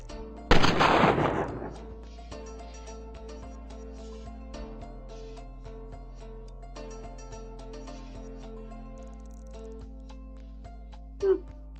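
Gunfire in a retro video game: a loud burst of shots near the start, then a steady background tone with a short sharp hit near the end, with no talk over it.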